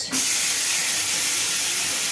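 Chopped green chilli, tomato and onion hit hot tempering oil with a sudden, loud, sustained hissing sizzle that begins almost at once and stays close and steady.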